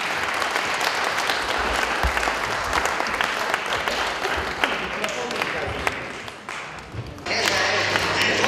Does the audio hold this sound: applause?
yes